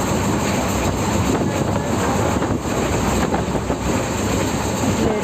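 Jammu Tawi Express passenger train running on the Gandhinagar to Jammu route, a steady loud rumble and rush with wind buffeting throughout, no voices.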